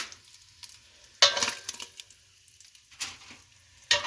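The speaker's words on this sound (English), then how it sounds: "I'm just going to dump in the vegetables, and they're going to cook in the bacon grease for about 10-15 minutes" Vegetables tumble into bacon grease in a Dutch oven, with sharp bursts of hissing sizzle and scraping at intervals over a quiet, low crackle, close by and without speech.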